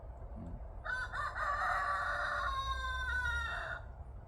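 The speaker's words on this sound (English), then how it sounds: "Perfectly on cue with the rooster." A rooster lets out a single long crow, rising then holding and trailing off, heard at moderate distance over quiet outdoor background.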